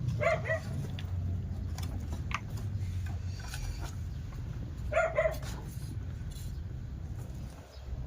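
A dog barks in two short bursts, a few yips near the start and another pair around the middle, against a steady low outdoor rumble with no talk.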